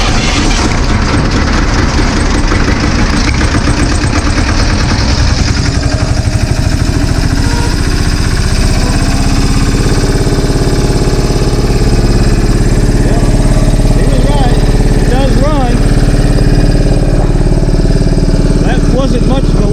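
A vintage Deutz diesel engine chugs with a loud, close, low, rhythmic knocking rumble throughout while someone talks over it.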